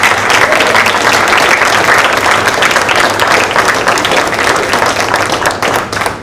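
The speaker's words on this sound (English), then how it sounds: "I want to, once again, if we could give a round of applause to Crystal Rich, who did an amazing job." An audience at a high school hall of fame induction ceremony gives a full, steady round of applause, loud and continuous throughout before easing slightly at the very end.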